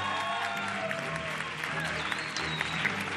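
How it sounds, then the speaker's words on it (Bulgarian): A studio audience applauds a guest on a Bulgarian television show, broad sustained clapping with faint tonal sounds and a few brief voice traces mixed into the crowd noise. "аплодисменти за Николета Лозанова!"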